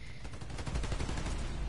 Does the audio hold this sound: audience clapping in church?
no